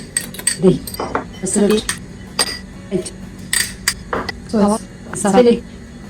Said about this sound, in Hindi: एक बर्तन में हम सारा कुछ मिक्स कर लेंगे